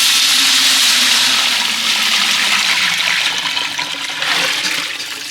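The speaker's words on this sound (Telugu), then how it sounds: "ఇప్పుడు మనం చికెన్ ఉడకబెట్టుకున్న నీళ్ళు పోసుకుందాం." Water left from boiling chicken is poured into rice for a village-style chicken fry piece biryani, a loud close rushing gush that slowly eases off.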